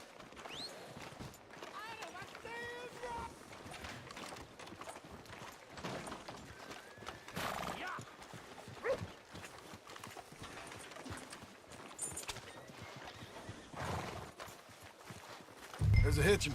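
Horse hooves clip-clop in Red Dead Redemption 2, a steady walking rhythm of quiet hoofbeats continuing throughout, with game music and occasional speech over it and a louder thump at the end.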